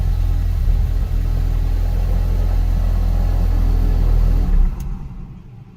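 A Ford Focus RS engine runs as a loud steady low rumble close by, then cuts off abruptly near the end and fades to quiet.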